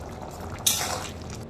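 Simmering ghugni, a pea curry, bubbles softly in a pot, with a brief scrape of stirring partway through, close and quiet.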